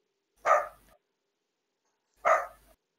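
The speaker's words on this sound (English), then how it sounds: "The dogs on the ship are barking." Two loud, sharp dog barks, spaced about two seconds apart, close by with silence between them.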